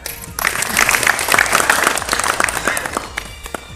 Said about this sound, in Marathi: त्यासाठीच टाळ्या